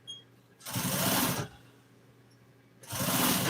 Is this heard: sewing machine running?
yes